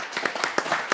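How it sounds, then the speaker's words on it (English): Hands clapping in a quick, steady series of close, crisp claps, about six in a second, with no voices over them. "I did real claps."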